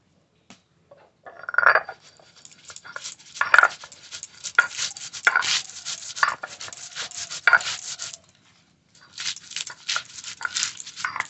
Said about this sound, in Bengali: সামান্য কটা গোটা জিরে দেব, আর দেবো কাঁচা লঙ্কা, একসঙ্গে বেটে নেব